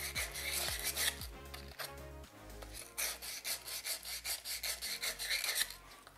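Sanding a gunmetal and buffalo horn pen blank spinning on a lathe, with repeated rhythmic rasping strokes, close and fairly quiet, with no talk.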